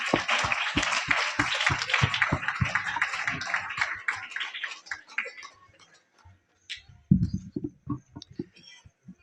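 Audience applause welcoming a seventh-grade student poet at a school motivational seminar in Badarwas, a dense burst of many hands clapping loudly for about four seconds, then thinning to scattered claps and a few loud sharp claps near the end.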